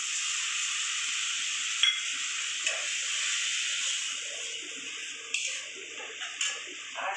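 Fish curry masala in the pan just after water goes in: a steady, hushed steam hiss and sizzle, moderately close, broken by a few soft knocks and stirring sounds toward the end.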